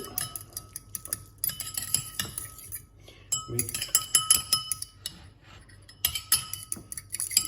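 A metal utensil clinks and taps rapidly against a glass or ceramic bowl while olive oil sauce with lemon is mixed for Italian-style baked fish. The bursts are irregular, with short gaps between them.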